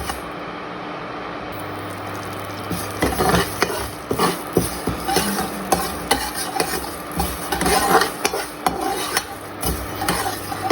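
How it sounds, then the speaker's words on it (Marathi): Fenugreek seeds roasting in a little oil, stirred in a pan, with soft sizzling and repeated scraping and clinking strokes that grow busier after the first few seconds. "इथं आपल्याला थोडंसं तेल घालून या मेथ्या परतून घ्यायच्या आहेत"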